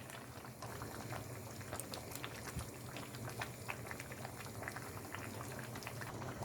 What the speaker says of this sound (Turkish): Suyunu çekene kadar, suyu kıvamlı hal alana kadar ara sıra karıştırarak melemenlerimizi pişiriyoruz.